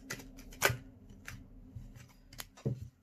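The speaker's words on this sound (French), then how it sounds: "pendant que je bats les cartes" Tarot cards being shuffled by hand: irregular crisp riffles and snaps, a few sharper bursts spaced through quiet gaps, close and fairly faint with no talking.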